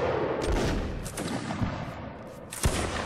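Muskets fire in a multiplayer line battle game, a ragged volley of several sharp cracks and thumps spread irregularly across three seconds, loud over a rumbling backdrop.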